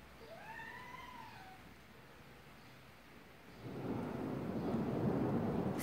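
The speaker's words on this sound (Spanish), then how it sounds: "está tronando de una manera terrible" Thunder during a heavy rainstorm rolls in as a low, swelling rumble that grows louder in the second half, after a cat meows a few times early on against quiet background noise.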